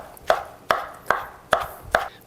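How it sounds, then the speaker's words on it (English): A knife chops Tuscan kale (cavolo nero) by hand on a board in five sharp, evenly spaced strokes, close and clear with no talking. "we're just gonna chop up the kale"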